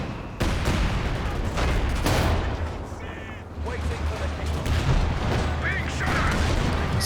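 A 17 pounder anti-tank gun firing in Company of Heroes 2 amid a fusillade of sharp booms and gunfire bursts, several loud impacts scattered across the battle with a commentator talking over them.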